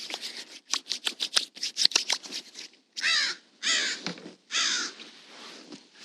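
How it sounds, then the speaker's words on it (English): Crows cawing outdoors, a quick run of sharp repeated caws followed by several longer, drawn-out calls, fairly close and loud with no talking. "Birds."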